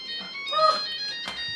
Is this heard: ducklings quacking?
no